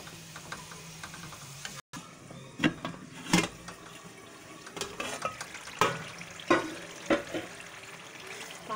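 Tomato masala for chana dal frying in a pan while a spoon stirs it, with scraping clacks and thuds at irregular intervals over a steady low sizzle, close and fairly loud.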